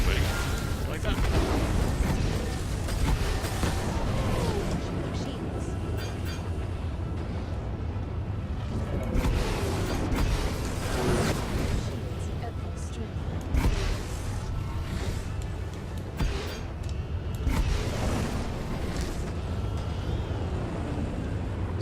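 A missile fired and exploding during a Star Citizen space dogfight, a loud continuous roar with rumbling blasts and mechanical creaks, and a person talking over it throughout.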